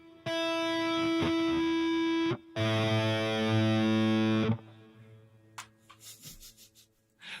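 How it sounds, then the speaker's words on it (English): Heavily distorted instrument notes ring out in two long sustained bursts, loud and harmonically rich, then decay into quieter scraping and clicking noises with no talk. "You can actually hear it better with distortion."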